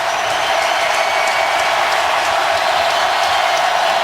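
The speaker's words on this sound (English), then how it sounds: "Now this crowd is alive." Football stadium crowd at a 2014 Buccaneers at Saints game roars with cheering, a loud, dense and steady wash of thousands of voices that keeps going without a break.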